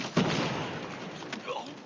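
A sharp grenade blast in a Call of Duty match, one loud thump followed by a lingering rumble and faint crackle, with a couple of softer muffled pops afterward.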